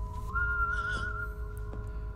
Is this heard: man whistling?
yes